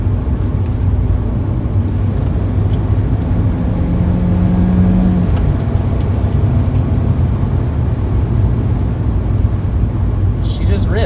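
A BMW E36 car drives along with a steady engine drone and road rumble throughout, a brief rising harmonic suggesting acceleration, while talk runs over the top.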